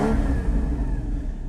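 Porsche 981 Cayman GT4 with sport exhaust open, engine revving under throttle, a loud, deep continuous rumble close by with a rising tone, no talk.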